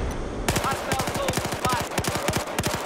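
Rapid automatic gunfire in Battlefield 4 multiplayer on Xbox 360, a long evenly spaced burst of sharp close shots that starts abruptly and keeps a steady rhythm, with faint game voices underneath.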